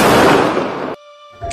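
A firecracker bursts in a Diwali scene in the video game Free Fire: a loud, crackling blast that lasts close to a second and cuts off abruptly, followed by a quiet electronic hum and a faint sound at the end.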